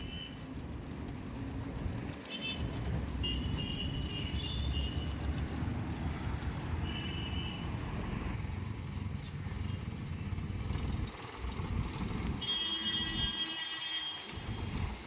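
A manual car is driven slowly while parking, its engine a steady low hum and rumble throughout, with occasional voices talking over it.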